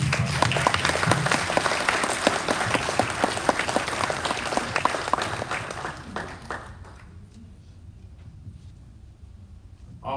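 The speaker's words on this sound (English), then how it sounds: "Please let's give him a clap." A church parish congregation gives a warm round of applause, dense and continuous for several seconds before thinning and fading to a near-quiet hall.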